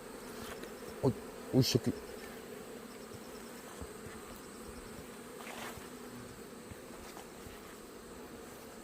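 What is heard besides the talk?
hornets buzzing around beehives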